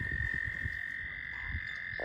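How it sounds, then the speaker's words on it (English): Toads croaking in a steady chorus, low pulsing calls overlapping with a continuous high trilling drone. "Those are toads."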